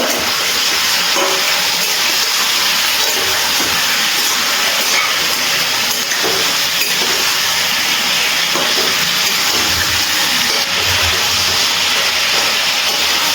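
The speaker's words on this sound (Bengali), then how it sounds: "গ্যাসের ফ্লেমটা হাইতে রেখে চিকেনগুলো একটুখানি 4 থেকে 5 মিনিট মতো ভেজে নেব।" Kadai chicken pieces frying in a pan over a high gas flame, giving a loud, steady, close hiss and sizzle that never lets up, with no talking.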